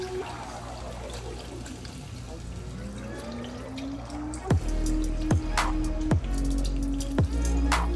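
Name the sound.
pouring chicken broth into a pot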